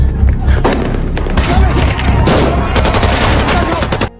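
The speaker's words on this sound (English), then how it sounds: "we see Aga and his family evading bullets from a shootout happening" A film shootout between rebels and government soldiers erupts in loud, dense gunfire, rapid overlapping shots and booms rattling continuously for several seconds before cutting off abruptly.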